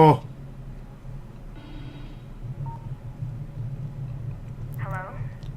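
A phone rings inside The Evil Within 2, a few faint electronic trills near the end over a low steady game ambience, with a short burst of talk near the start.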